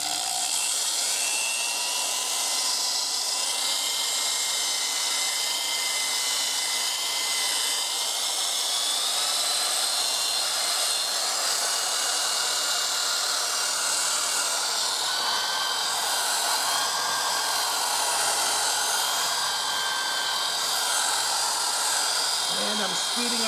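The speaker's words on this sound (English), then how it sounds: "I'm speeding up the drill so there's a better shine" A power drill with a buffing attachment polishes a guitar body, making a continuous high whirring and grinding whine that shifts slightly in pitch as the drill speeds up, with someone talking over it at times.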